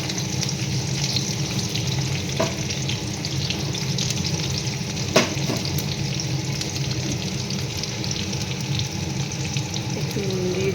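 Diced onion and capsicum frying in a pan at home, a steady close sizzle with a few scraping stirs and clinks of a utensil, continuous throughout with no talk.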